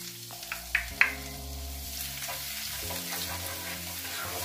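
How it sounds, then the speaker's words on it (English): Ginger and minced garlic frying in butter in a pan, a steady close sizzle with a few sharp clicks and taps near the start and a low steady hum beneath. "I'm going to toss this around in the butter."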